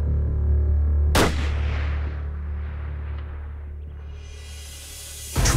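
A Remington rifle fires at a tahr during a mountain hunt: one loud, sharp shot followed by a long rolling echo, with another abrupt blast right at the end.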